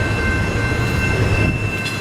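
A Norfolk Southern freight train, NS I-38, rolls past in Columbia, South Carolina, heading into a rail yard, with a loud continuous rumble of wheels and cars close by.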